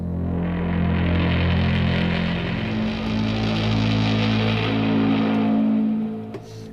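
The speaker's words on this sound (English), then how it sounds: "so keep in mind this is just a sustained sound like this." Sustained Project ALPHA synthesizer drone, a loud, steady buzzing tone held continuously for several seconds before tapering slightly at the end, with no one talking.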